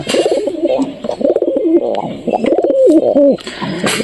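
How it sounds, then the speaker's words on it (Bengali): Pigeons kept in a coop coo nearby in loud, rolling, throaty phrases that overlap and repeat one after another with only short breaks. "এই দেখো কবুতরগুলো ফুল ইসে আছে"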